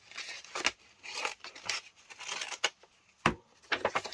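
Packaging board being cut open by hand, close and quiet, with irregular crunching snips and scrapes and a few sharper cracks spread through the clip.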